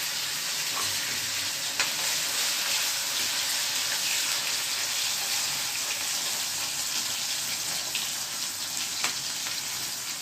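Tomatoes sizzling in hot oil in a Gujarati home kitchen, a steady, close, continuous frying hiss with faint stirring clicks throughout, no talking.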